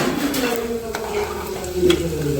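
Chana dal and peanuts frying in oil in a pan until reddish for raw mango chitranna, a soft continuous sizzle broken by occasional stirring scrapes close by.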